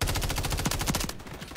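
A stock gun in Modern Warfare 3 fires a rapid, loud automatic burst of evenly spaced shots that cuts off after about a second.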